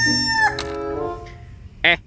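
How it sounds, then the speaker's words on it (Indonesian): A broiler chicken lets out a loud, harmonic crow-like call followed by a short cluck and a sharp squawk near the end, close and clear with no talking. "yang ini ada ayam boiler"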